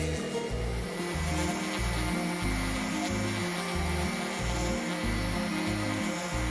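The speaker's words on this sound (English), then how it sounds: "Now it's time for a final sanding of all pieces before finishing." Sanding wooden farmhouse dining table pieces, a steady loud power-sander whir with a rhythmic pulsing drone that stays close and continuous throughout, no voices.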